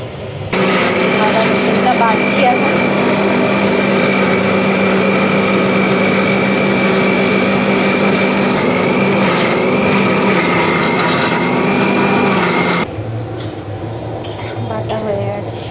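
An electric kitchen grinder whirs steadily and loudly for about twelve seconds while grinding ginger and garlic into a paste for a chicken dish, then cuts off abruptly and leaves quieter kitchen background.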